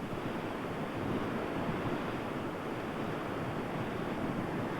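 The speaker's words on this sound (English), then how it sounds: "The waves that come onto the beach here in La Jolla may have come from very distant storms" Ocean waves breaking on the beach at La Jolla, a loud continuous wash of surf with steady roaring noise and no talking.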